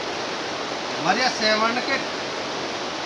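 Rain falls outdoors at a work site in Cyprus, an even, continuous hiss in the background while someone talks over it.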